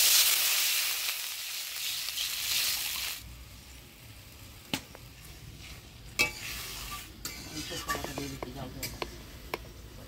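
Water poured into a frying paste of mustard, ginger, chilli, turmeric and salt, giving a loud hiss for about three seconds that settles into a low simmer broken by sharp scrapes and clinks of stirring.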